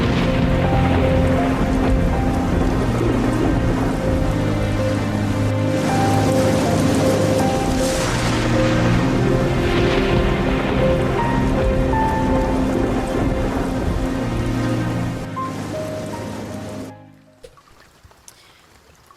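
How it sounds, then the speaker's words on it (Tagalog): Heavy rain pours down in a dense, steady roar over a low rumble, continuous and loud for most of the stretch before cutting away to near silence at the end; no distinct thunderclaps stand out. "Walang masyadong labas kasi sobrang lakas ng ulan"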